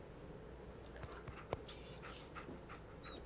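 Dogmeat, the companion dog in Fallout 4, pants softly in a steady rhythm with a few faint whimpers, alone and at moderate distance against a low background hum.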